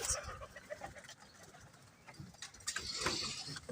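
Pakistani pigeons coo softly in a loft or rooftop setting, with low, repeated cooing calls and scattered bird chatter and rustling, fairly quiet and with no voices.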